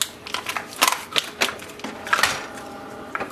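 Canon Pixma TS3720 setup ink cartridges pulled from their plastic packaging, giving a string of sharp crinkling, clicking handling sounds, close and fairly loud, with no talk.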